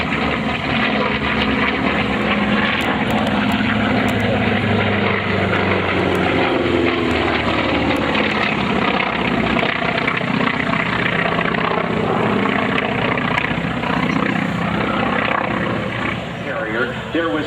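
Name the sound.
F4U Corsair and FM-2 Wildcat propeller aircraft flying past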